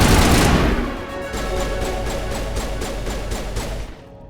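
Assault rifle gunfire in Mass Effect Legendary Edition: a loud opening burst, then a steady rapid stream of evenly spaced shots for about three seconds before it cuts off, with no talking.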